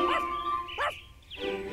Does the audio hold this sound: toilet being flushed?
no